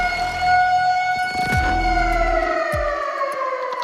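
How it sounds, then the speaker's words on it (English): Loud wailing sirens rise and fall in overlapping tones, with a deep low rumble building beneath them. "And then come the sirens."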